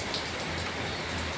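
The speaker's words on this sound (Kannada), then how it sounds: "ನಿಮ್ಮೂರಲ್ಲೂ ಮಳೆ ಬರ್ತೈತ ಕೇಳು" Steady rain falls near a temple, a dense, continuous hiss of drops on surfaces that holds evenly throughout with no voices.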